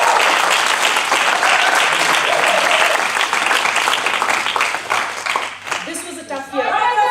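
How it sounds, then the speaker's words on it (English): Audience at a graduation ceremony applauds the faculty with sustained, dense clapping that carries on for several seconds, then thins and fades out. A voice comes in briefly at the end. "A round of applause for your faculty."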